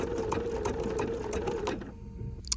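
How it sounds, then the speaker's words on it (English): A sewing machine runs a candle wicking stitch, its rapid rhythmic needle clatter steady and close for about two seconds before slowing and stopping with a faint click. "now we're going to do our candle wicking stitch."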